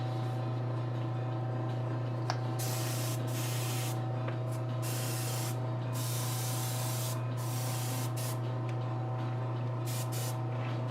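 Continuous close hiss of matte varnish sprayed from a can, sustained with short breaks between bursts, over a steady low hum.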